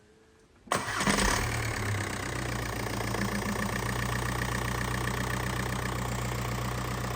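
A 1.9/2.0 TDI diesel engine with a turbocharger overboost fault cranks and starts after a brief quiet moment, then settles into a steady, close idle with a constant mechanical hum.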